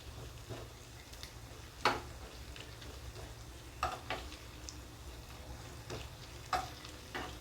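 Grated coconut frying in ghee sizzles softly in a pan while a spoon stirs it, scraping in several distinct strokes every couple of seconds over a low, steady hiss, quiet and close.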